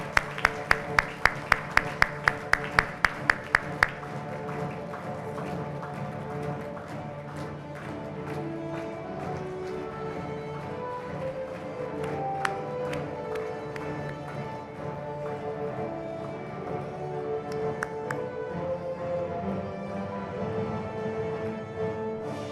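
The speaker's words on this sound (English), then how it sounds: "A loud applause, please, everybody." Applause from the audience at the Retina Update 2018 award ceremony after a Sadguru medal is conferred: dense, steady clapping that holds for over twenty seconds, with a burst of sharper claps at the start and music or ambient sound underneath.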